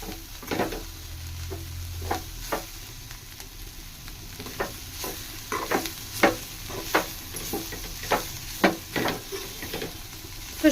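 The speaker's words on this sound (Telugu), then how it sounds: "ఈ విధంగా వేసుకొని ఇది బాగా ఒకసారి మిక్స్ చేసుకోవాలా" Cluster beans fry with tempering powder in a pan, a low steady sizzle broken by repeated scraping stirs and clacks, close and without talk.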